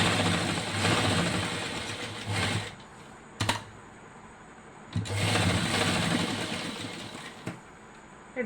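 A sewing machine stitches skirt fabric in two long, steady whirring runs. Short clicks and pauses separate the runs, and no one speaks.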